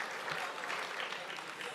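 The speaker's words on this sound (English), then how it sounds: "Let's give them a hand, a round of applause" Dense, steady applause from an audience at an awards gala banquet, a continuous wash of many hands clapping at even loudness throughout.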